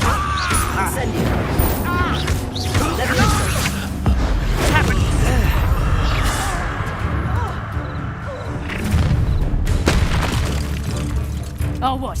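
An Incendio fire spell goes off in the Hogwarts Legacy video game with loud booming, crashing bursts amid constant dense combat noise, and voices speak over it.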